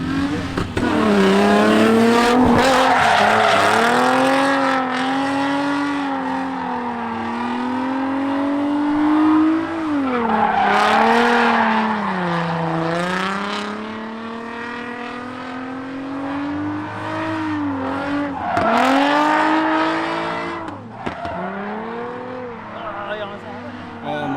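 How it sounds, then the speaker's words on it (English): A Nissan R33 GTR spinning its wheels, tires squealing loudly while the engine revs rise and fall in long repeated surges, close and continuous. "starting to spin, and it's still spinning"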